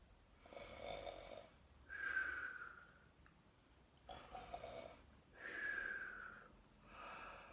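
A storyteller's voice imitates a bear snoring, with two long rasping snore cycles, each a breathy inhale followed by a rumbling exhale, close and clear with no other talk.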